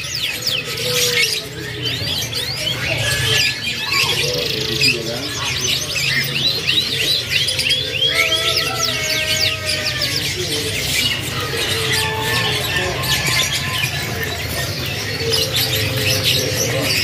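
Several canaries trill and chirp continuously in a dense, overlapping chorus, bright and busy, over a steady low background hum.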